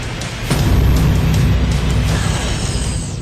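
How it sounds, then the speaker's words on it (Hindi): Artillery shelling across the border in RS Pura, Jammu, heard as continuous low rumbling booms and blast noise, fairly loud and sustained, no speech over it. "पीछे आप धमाके जो है वो सुन सकते हैं।"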